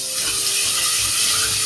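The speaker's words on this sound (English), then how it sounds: "We'll just give it a dash of water" A dash of water pours into curry paste cooking in a pan, producing a steady loud rushing hiss that lasts throughout with no pauses.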